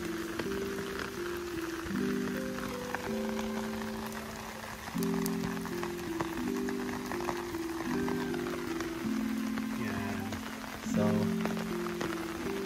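Steady rain patters on a surface throughout, with a simple electronic melody of held tones playing over it.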